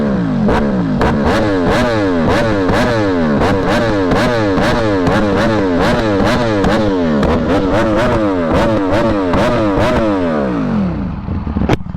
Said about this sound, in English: Listen to that Austin Racing.